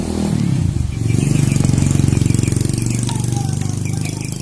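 A 2002 Suzuki Satria 120R motorcycle idles through its original exhaust, its engine putting out a fast, even, rhythmic pulse up close and loud, holding steady for the whole stretch with no one speaking.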